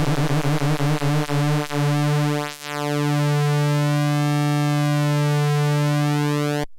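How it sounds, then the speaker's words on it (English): A subtractive synthesizer oscillator holds a sustained tone whose pitch sweeps slowly up and down under a slow LFO, loud and continuous with no talk. "So we could have it controlled by the LFO, which is here in the modulator section. Let's slow it down."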